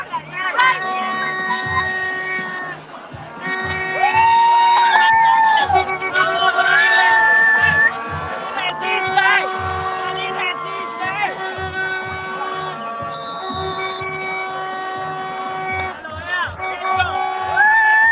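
Big crowd at a Colombian 2022 runoff election rally, a continuous roar of voices with whoops and cheers, with loud music and people talking over it.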